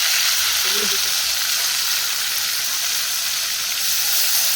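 Fish masala frying in hot oil, a steady loud sizzle throughout with faint stirring underneath.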